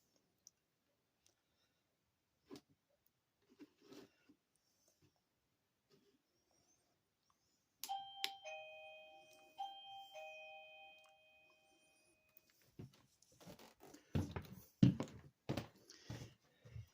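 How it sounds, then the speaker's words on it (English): A home doorbell gives a clear two-tone ding-dong chime in a quiet room after scattered soft clicks and taps, followed by louder knocking or handling thumps. "Ring the doorbell, Ma."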